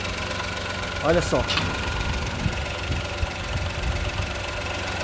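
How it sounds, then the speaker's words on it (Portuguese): A Ford Ka three-cylinder engine idles with a steady, slightly uneven low rumble and vibration heard up close. Someone speaks briefly over it. "Vamos no Ford Ka primeiro. O motor tá lá"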